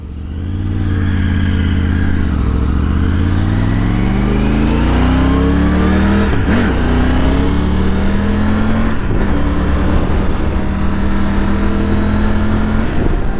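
A Triumph Tiger 900 motorcycle ridden hard on a twisty road, its engine revving up through the gears with rising pitch, shifts and roll-offs, loud and close with wind rush throughout.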